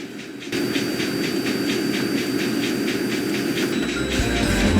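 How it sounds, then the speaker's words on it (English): A long freight train pulling stone hoppers rumbles past nearby, its wheels clacking rhythmically over rail joints in a steady, continuous roar. "Madison passed by pulling a long stone train."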